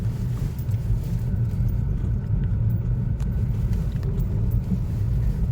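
Low, steady rumble of a Toyota Prius engine on a test drive after decarbonizing, with road and cabin drone filling the whole stretch, continuous and close, no voices.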